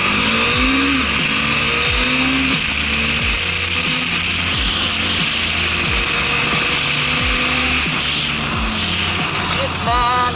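A Bajaj Dominar 400 motorcycle accelerates hard while shifting gears without the clutch. The loud, close engine note keeps climbing, then dips briefly at each quick shift, over a steady rush of wind and road noise.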